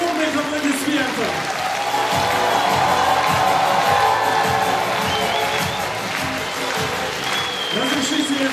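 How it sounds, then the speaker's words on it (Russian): Dense applause from a concert audience at a children's ensemble anniversary show fills the hall steadily and loudly, with faint cheering mixed in and a voice speaking over it. "И эти ребята достойны бурных аплодисментов."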